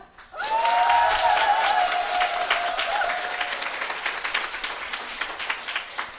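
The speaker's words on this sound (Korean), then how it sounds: "박수 한번 크게 치시고 가실까요?" A large seminar audience claps loudly for a speaker. The applause surges at once, holds strong and dense for several seconds, then slowly thins and fades.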